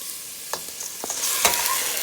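Rice and onion frying in a pot for brown stew chicken with peas and rice, a steady hissing sizzle with a few scraping stirs from a utensil, close and fairly loud.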